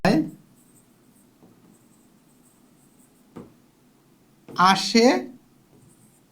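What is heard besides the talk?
writing during a lecture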